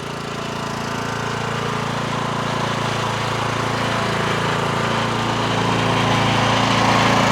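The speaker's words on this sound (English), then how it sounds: "it's pretty simple to ride a zero turn going straight and doing your turn." A zero turn lawn mower runs steadily throughout, its engine drone holding a constant, fairly loud level with no talk over it.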